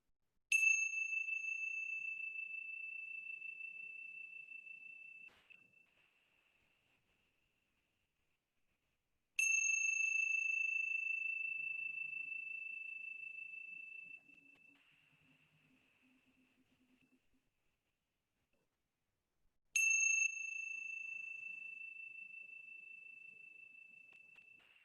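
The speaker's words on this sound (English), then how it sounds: "I'm going to ring the chimes 3 times" Meditation chimes struck three times at roughly ten-second intervals, each bright metallic strike ringing out clearly and decaying slowly into near silence.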